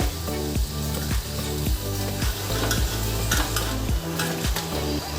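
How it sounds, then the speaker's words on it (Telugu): Small sago and buttermilk fritters fry in hot oil until golden, a steady bubbling sizzle with regular stirring scrapes of a spoon in the pan, close and continuous without talk. "గోల్డెన్ కలర్ వచ్చే వరకు వేయించుకోవాలి"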